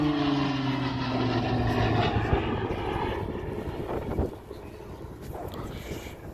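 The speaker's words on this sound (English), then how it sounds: "noise you'll hear throughout the display is the upgraded Guarantee E turboprop engine" A turboprop aircraft engine at an air show display drones with a steady tonal hum that gradually shifts pitch, accompanied by wind rumble, loud at first then fading slightly.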